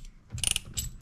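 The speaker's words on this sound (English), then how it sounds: "I'm going to use it as a ratchet." A hand ratchet clicks in a quick burst of metallic pawl ticks, then a shorter second burst, while working on a stalled gas-powered 1994 Club Car DS golf cart.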